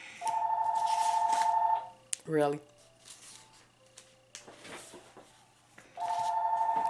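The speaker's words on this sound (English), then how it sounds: "Told y'all my phone ring all day." A phone rings with a loud electronic tone, first in one long burst and then again a few seconds later, while someone talks quietly between the rings.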